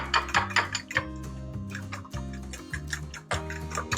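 Eggs beaten in a bowl with a utensil, quick rhythmic clinking strokes close by and fairly loud, running steadily under looping background music.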